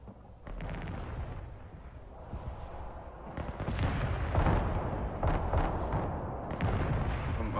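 Artillery fire in the video game Broken Arrow, a rumbling barrage of booms and blasts building in density and loudness, with sharp impacts layered over a continuous low roar.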